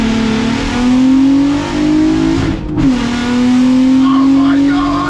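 A van fitted with a Golf R engine pulls hard in first gear, its loud engine note climbing steadily in pitch, briefly dipping around a gear or throttle change, then rising again with occasional voices mixed in.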